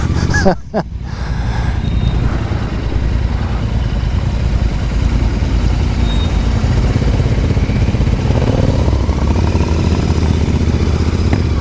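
Royal Enfield motorcycles ride out together in a group, their engines forming a loud, continuous drone with wind rush after a brief clatter at the start.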